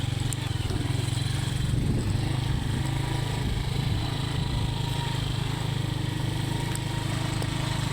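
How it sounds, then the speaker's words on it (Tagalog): A motorcycle engine drones steadily and close at low pitch during a ride along a rough, pothole-strewn road, an unbroken hum with slight shifts and no clear talk. "iparado na nga po natin ang ating motor"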